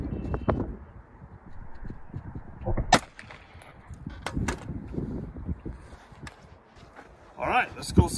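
A Berry's 124 grain hybrid hollow point round is fired into a ballistic gel block, giving a sharp, loud report near the three-second mark and another burst later, with outdoor rustling and handling noise between them.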